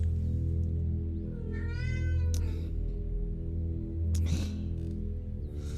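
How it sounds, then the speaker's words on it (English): A cat meows a few times in drawn-out, wavering cries over a steady low background hum, fairly close and clear, with no talking. "I can't concentrate because of the cat."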